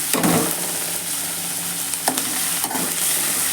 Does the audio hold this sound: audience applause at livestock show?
no